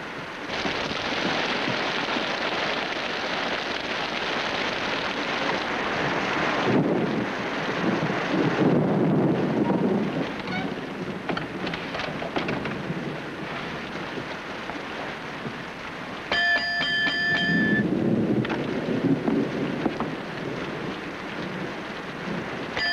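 Stormy night outside a lodge closed for the season, with steady wind and rain roaring continuously throughout and swelling into low rumbles that suggest thunder, loud and close.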